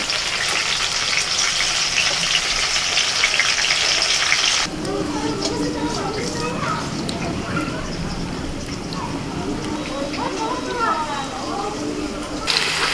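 Potatoes frying in a pan give a steady, hissing sizzle at close range that drops in level partway through, with a person talking over it.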